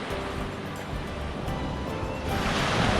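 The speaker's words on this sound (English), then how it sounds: "I see waves crashing way off there, offshore." Ocean surf at a beach in the Bay of Banderas near Puerto Vallarta, Mexico: a continuous broad wash of waves with wind, swelling louder toward the end.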